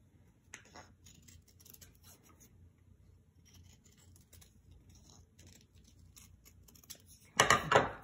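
Scissors snip through a piece of tape in faint, sparse cuts over quiet room tone, ending in a louder, crisp rustling burst.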